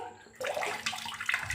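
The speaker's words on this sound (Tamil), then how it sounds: "அதனால் வந்து ரொம்பவுமே ஸ்லோவாக தான் தண்ணி வருது." Water suddenly starts running from a clogged, damaged pipe, a close, steady gushing splash that follows a brief quiet moment.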